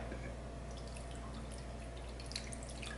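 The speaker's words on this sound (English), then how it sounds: "that's just a little bit of water in the bottom of the pan" A little water poured into the bottom of a pan for a cheesecake water bath, a close continuous dripping trickle lasting a few seconds, with no speech.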